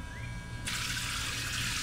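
Water pours from a portable camping shower into a basin, a steady hissing stream that grows fuller and louder partway through, heard alone at close range.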